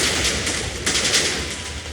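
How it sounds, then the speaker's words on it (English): Huge chain of TNT explosions in a video game, a dense continuous roar of rumbling blasts with sharp crackling bursts, loud and unbroken throughout with no speech. "Mega explosion, and it's only coming that way."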